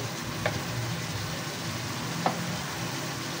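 Chicken with bagoong (fermented shrimp paste) cooks in a pan with a soft, steady sizzle, broken by a couple of faint utensil clinks.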